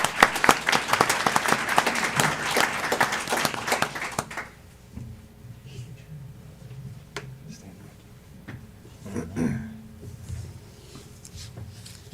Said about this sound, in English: Let's give Colvin a big round of applause.